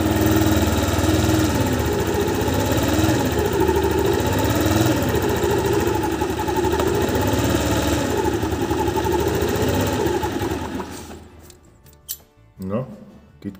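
A small carbureted engine, adjusted at its accelerator pump, runs steadily at a loud, buzzing idle for about ten seconds, then abruptly stalls and cuts out, leaving a few clunks and faint handling noises.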